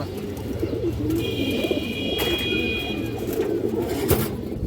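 Pigeons coo softly and steadily in a loft, among them a fine breeding pair that has just laid an egg, with low murmuring calls continuing throughout beneath nearby talk.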